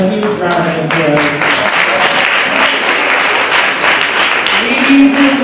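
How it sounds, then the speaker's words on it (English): Loud, sustained applause fills a community gathering after an African chorus performance, with voices talking and calling out over the clapping throughout. "please give yourself a huge round of applause"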